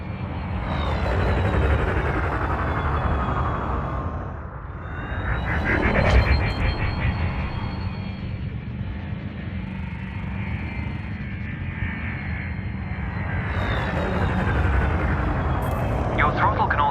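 Spaceship engines in Elite Dangerous thrusting and accelerating, a loud roaring whoosh that dips, surges again and sustains as a steady drone, with a spoken voice over the engine.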